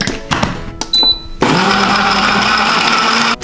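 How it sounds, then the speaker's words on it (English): A blender whirs up to full speed, blending a java chip coffee milkshake with brewed coffee, after a few clicks and knocks, then holds a loud, steady high-pitched motor whine until it cuts off near the end. "And now we blend."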